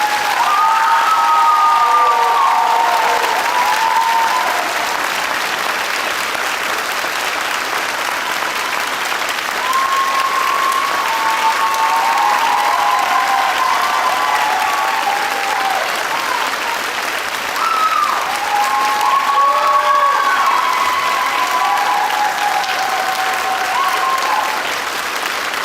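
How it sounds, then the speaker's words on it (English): A school choir concert audience gives a long, sustained round of applause with scattered cheers and whoops rising above the dense clapping, which stays loud throughout. "Let's give a round of applause for the rest of the awesome seniors."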